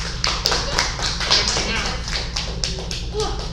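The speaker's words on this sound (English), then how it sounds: "Give him a huge round of applause" A small martial arts class claps for a student in a live online session; sparse, uneven individual claps and taps sound close by over a steady low hum, with voices talking through it.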